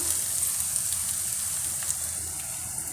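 Food sautés in a pan until golden brown for a tamarind curry, giving a steady soft sizzle and crackle that runs evenly throughout, close and moderately quiet, with no talk.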